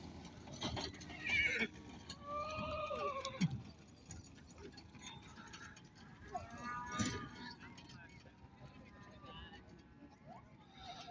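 Horses at the İmişli horse market, with whinnies and hoof clip-clops amid crowd chatter and people talking, other animals bleating faintly in the background.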